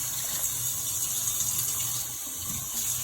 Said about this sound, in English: you're gonna put hot water on your pork.